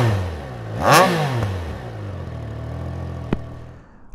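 A 2021 Triumph Trident 660 rides in slow traffic, its engine droning low and steady while a nearby vehicle swells past with a brief rising and falling whoosh and a sharp click near the end.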